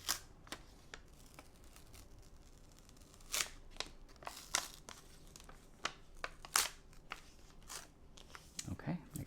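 Scissors snip and paper crinkles as a paper perfume scent sample insert from an April 1990 Cosmopolitan magazine is cut open: scattered close clicks, rustles and crisp cuts, with a voice heard talking.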